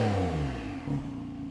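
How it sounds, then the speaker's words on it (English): A Porsche 911 Carrera S of the 991.2 generation with its exhaust valves open, giving a deep, loud engine note that sags then picks up again in one brief close burst. "Let's open them, and automatically you can hear the valves open up and a very different tone to the exhaust system."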